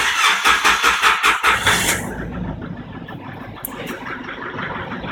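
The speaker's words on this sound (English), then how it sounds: "Now I'll just start the car up for you." A 2011 Nissan Patrol 4x4 with a 3.0-litre turbo diesel engine cranks with rapid rhythmic starter pulses for about two seconds, then catches and settles into a steady, close diesel idle, with no talking.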